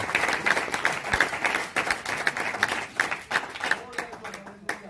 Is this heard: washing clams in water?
no